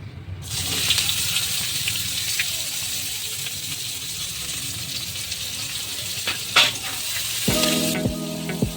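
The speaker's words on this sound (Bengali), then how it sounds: "ফোড়নগুলো একটু লালচে হয়ে এসছে, এবার আমি পেঁয়াজগুলো দিয়ে দিলাম।" Chopped onions drop into hot oil with reddened whole spices for a Bengali-style chicken kosha, setting off an abrupt, loud, steady sizzle that continues throughout, with a few clinks and a brief voice near the end.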